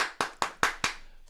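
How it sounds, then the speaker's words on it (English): Four sharp hand claps in a steady rhythm, close and fairly loud, with a brief pause before a faint fifth at the end, applauding someone on a morning talk show. "I'm gonna applaud you for that."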